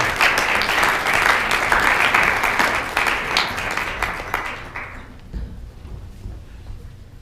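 An audience claps warmly for a professor being welcomed at an honorary evening event of the Society for American Music. The dense applause fills a hall, holds steady for several seconds, then fades into quiet room tone.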